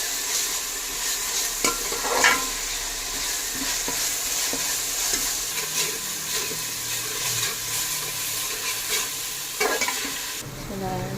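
Masala for a country-chicken dum biryani sizzling in oil in a pot while a spoon stirs and scrapes steadily through it, close and continuous with no talking.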